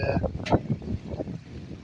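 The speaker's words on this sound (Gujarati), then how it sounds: "પવન બહુ વજ્યો છે મિત્રો" Strong wind during a rainstorm buffets the microphone in rumbling, uneven gusts, with a brief sharper whoosh partway through.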